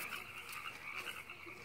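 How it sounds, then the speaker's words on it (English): A bullfrog croaks faintly outdoors in a steady, continuous drone with no voices over it. "It's my pet frog."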